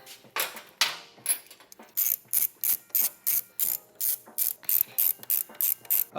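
Ratchet wrench unbolting the battery box on a Honda CB360 motorcycle: close, crisp clicking ratchet strokes, a few irregular at first, then a steady rapid rhythm of about a dozen bursts.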